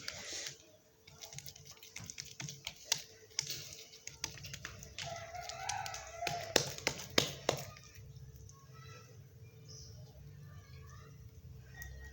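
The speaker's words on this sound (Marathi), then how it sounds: "अशी छोटीशी भाकर थापून घ्यायची पालवावरती" Soft repeated hand pats as jowar thalipeeth dough is pressed flat on a pan, a loose series of light taps that cluster and then thin out under low background noise.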